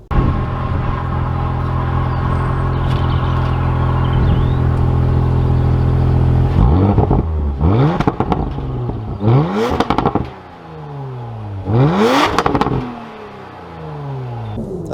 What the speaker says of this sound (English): the pops and noises that come from the rear end are so much more prominent and louder than the previous